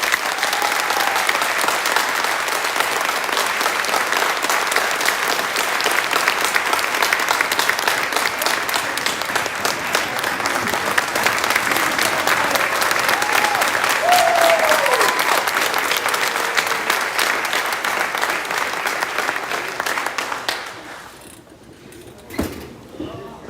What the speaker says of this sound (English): deserves another round of applause